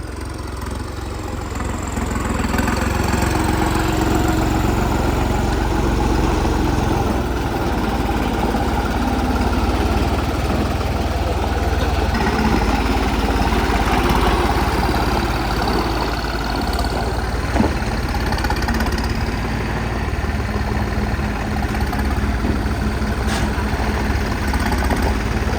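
A tractor engine idles steadily nearby, a constant low diesel rumble throughout with no pauses or speech, on a farm during paddy field preparation.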